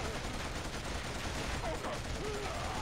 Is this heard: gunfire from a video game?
yes